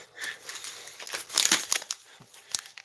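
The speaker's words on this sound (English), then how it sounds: "Looks like an innocent little plastic bag." A small plastic bag is crinkled and rustled by hand in a kitchen, a quiet, uneven stream of crackles with a louder burst midway.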